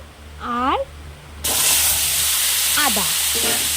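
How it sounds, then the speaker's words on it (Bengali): Potatoes and aubergine frying in oil in a wok: a loud, steady sizzle bursts in partway through and continues, with a voice talking briefly before it starts and again over the frying. "তো এবার আমি কড়াইয়ের মধ্যে আলু বেগুনগুলোকে দিয়ে দিয়েছি দিয়ে একটু হালকা ভাজা ভাজা করে নিয়েছি"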